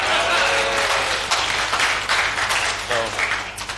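A conference audience cheers and applauds on cue in a tech talk hall, a loud, sustained burst of crowd noise and claps that swells and fades over a few seconds.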